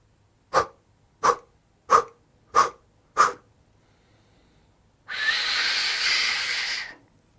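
A voice imitates a steam locomotive during a breathing exercise, giving five sharp, evenly spaced puffs of breath followed by a long, loud hissing exhale like released steam.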